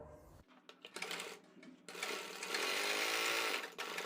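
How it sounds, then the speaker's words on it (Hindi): A sewing machine stitches a seam on a collared kurti, starting with a few short stop-start bursts of stitching before settling into a steady, loud, continuous run that stops briefly near the end. "पूरी सिलाई लगा देनी है इसी निशान पर"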